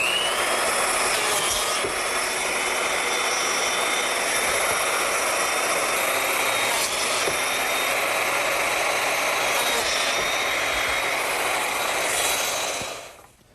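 A biscuit joiner cuts slots in board edges for a Shaker woodbox, a steady high-pitched motor whine with cutting noise running continuously and close, then winding down at the end.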